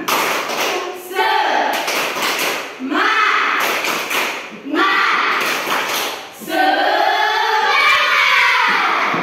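Classroom of Indonesian schoolchildren standing and doing a rhythmic spirit clap during a maths lesson, several bursts of group clapping in a pattern with children's voices chanting and shouting between them.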